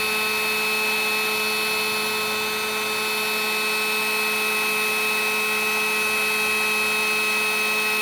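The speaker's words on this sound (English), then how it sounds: "Dewalt 2-speed heat gun" A DeWalt 20V compact two-speed heat gun running continuously, giving off a steady airy whir with fixed whining tones that stays even throughout, close by and without speech.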